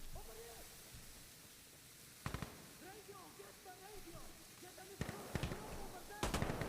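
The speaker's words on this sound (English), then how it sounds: "They're already shooting." Sporadic bursts of gunfire crackle in the Insurgency: Sandstorm video game, short distant volleys separated by quieter stretches with faint ambient sounds and low-level activity between shots.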